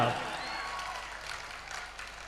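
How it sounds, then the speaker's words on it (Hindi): Crowd clapping at a Jain temple pratishtha festival in Barmer, a moderate, diffuse patter of many hands that stays fairly even and slightly distant, following a short vocal sound at the very start. "जोरदार एक बार तालियां बजाइएगा"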